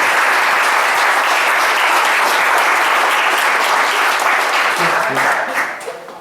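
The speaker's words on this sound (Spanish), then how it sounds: "un aplauso por favor a nuestros expositores" A crowd claps loudly and steadily for several seconds before the applause tapers off near the end.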